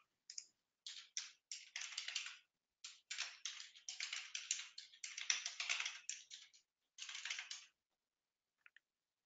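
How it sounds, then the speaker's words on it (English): Typing on a computer keyboard: bursts of quick clicking keystrokes in uneven runs with short pauses between, moderately quiet and close, no voices. "Now let's type in our details again."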